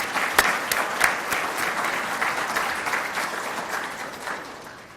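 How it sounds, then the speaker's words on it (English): Sustained applause from a luncheon audience honoring scholarship donors, a dense, steady patter of many hands at moderate distance with a few sharper claps early on, slowly tapering toward the end with no talking. "So please join me in giving a round of applause to these great folks."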